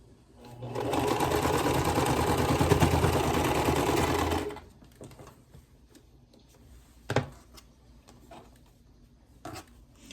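A sewing machine stitches a quilt block of fabric scraps in one steady, continuous run of about four seconds, followed by a few soft handling clicks and a faint thump in quiet.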